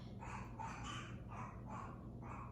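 A dog barks in the room, several short muffled barks in an uneven run that sound a little distant and fairly quiet, with no one talking over them.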